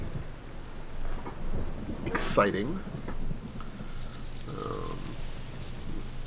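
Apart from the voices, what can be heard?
rain in the video game Kingdom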